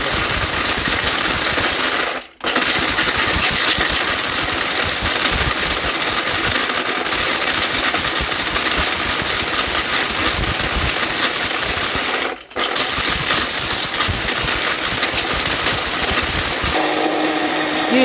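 A powerful countertop blender grinds turmeric into powder, roaring loudly and continuously with two brief dips where the motor cuts out momentarily, then resumes at full power.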